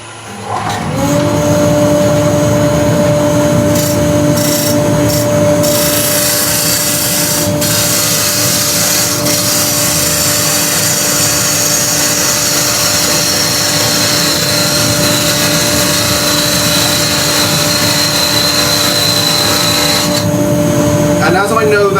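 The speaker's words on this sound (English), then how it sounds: "I'm just going to pop the extractor on for 5 minutes" A woodturning workshop extractor switches on and runs, a loud steady roaring hum with a strong tonal whine that holds for about twenty seconds before winding down at the end.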